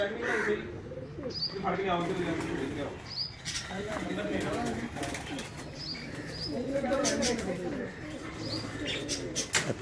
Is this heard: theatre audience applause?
no